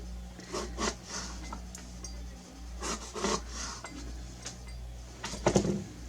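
A knife slicing eggplant into thin strips on a cutting board, giving a series of soft, irregular scraping cuts and light taps, fairly quiet and close, with no talking.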